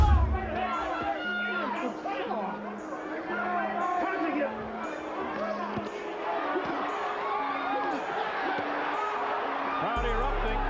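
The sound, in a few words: boxing crowd erupting after a knockdown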